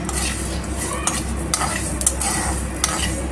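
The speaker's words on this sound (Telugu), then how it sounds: "సో ఈ కొలతలతో మీరు ఇలాగ డ్రై రోస్ట్ చేసుకోవాలన్నమాట." Mustard seeds, cumin and cardamom dry roasting in a pan, with a steady low crackle and scraping stirs, a few sharper clinks of a spoon against metal, close and continuous with no voices.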